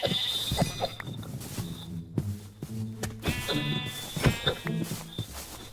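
Repeated sheep bleats in a video game, a few wavering cries rising over a busy game background of clicks and footsteps, fairly close and clear.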